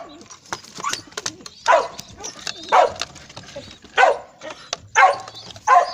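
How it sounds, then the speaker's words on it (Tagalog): A dog barks in short, loud bursts, about six sharp yaps spaced irregularly, near a pigeon loft where homing pigeons coo faintly in between. "Pasensyahan nyo na, ang ingay po ng aso namin."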